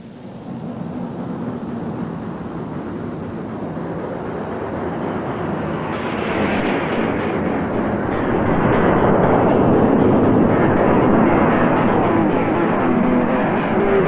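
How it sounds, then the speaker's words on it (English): A Lockheed C-141 military transport jet takes off from Thule Air Force Base, its engines a loud broadband roar that builds steadily over several seconds and peaks as the aircraft climbs away, with no talk. "A C-141 lifts off from Thule Air Force Base"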